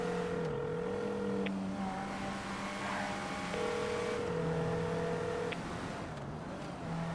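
A car engine in a video game, holding a steady drone and shifting pitch through gear changes as it revs, loud and continuous with no talking.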